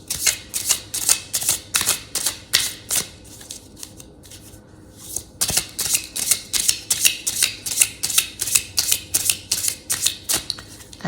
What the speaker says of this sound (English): I will do a good hard shuffle.